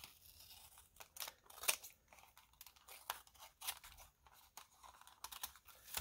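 Scissors trimming a sheet of junk journal paper, a string of quiet crisp snips and slicing crunches at an uneven pace, close to the ear and fairly faint, with no one talking.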